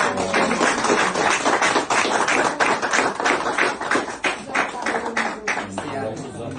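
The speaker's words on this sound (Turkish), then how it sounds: "Yok mu bir alkış çiftimize?" Applause for an engaged couple at a home gathering, a sustained patter of clapping from a small group, steady and close, with people talking and laughing over it.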